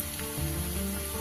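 Ginger, garlic and green chilli paste sizzles steadily in a pan of frying onions for a Bengali moong dal dish with rohu fish head, a continuous close hiss with no talking.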